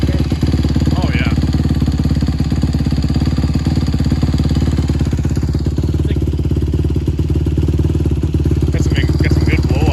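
85cc two-stroke dirt bike engine running loud and steady at close range, a continuous raspy buzz from the old exhaust pipe with slight rises in pitch, and a voice briefly audible over it.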